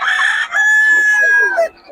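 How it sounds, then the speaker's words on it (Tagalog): A rooster crows on a farm in one loud, close, sustained call with a strained, wavering tone that breaks off near the end, briefly preceded by a short harsher burst. "Ang gaganda ng mga manok ni Boss Gaga, mga idol."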